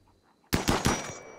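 Gunfire in the RimWorld video game: a loud burst of several rapid shots, roughly four or five cracks in quick succession, bursting abruptly out of near silence.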